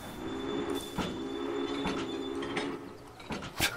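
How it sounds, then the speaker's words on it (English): A steam train rolls along the line in the Railway Empire video game, with steady rumbling wheels, a sustained whistle-like tone and sharp clanks near the end. "The one thing I didn't mention is you can blow the whistle."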